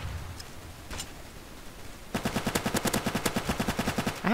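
Automatic gunfire from the player's weapon in Hitman: Silent Assassin, a fast loud burst of rapid evenly spaced shots starting midway after a quiet stretch with a few faint clicks.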